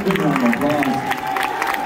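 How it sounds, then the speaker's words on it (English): Audience clapping and cheering at a hypnotist comedy show at Trine University, a steady patter of applause running under a loud voice that rises and falls. "Big round of applause."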